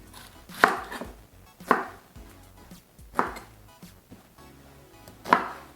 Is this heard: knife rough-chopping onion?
yes